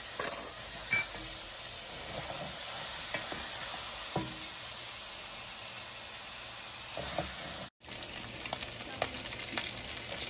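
Beef for a ragu sautés in a pan, giving a soft, continuous sizzle with occasional stirring scrapes and light clinks. It is fairly quiet and close, with a brief dropout near the end.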